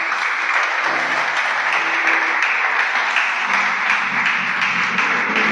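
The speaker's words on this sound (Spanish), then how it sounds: "Dale un aplauso." A church congregation breaks into sustained applause, many hands clapping densely and loudly in a full room for several seconds, with faint voices mixed underneath.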